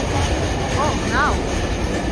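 A train rolls into a station with a steady, loud rumble of wheels on track and a couple of brief squealing tones from the wheels or brakes, heard throughout without talk.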